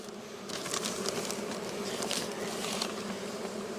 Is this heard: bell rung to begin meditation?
no